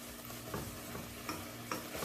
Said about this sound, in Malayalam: ഇനി ഈ ശർക്കരയും തേങ്ങയും കൂടി നന്നായിട്ടൊന്ന് വരട്ടിയെടുക്കണം.